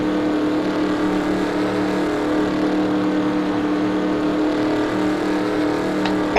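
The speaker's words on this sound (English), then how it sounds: "Got Tommy Patton coming in behind him in his Kool-Aid Chevrolet" Race cars in the NASCAR Racing 2003 video game drone steadily with a constant engine roar and no letup, fairly loud throughout.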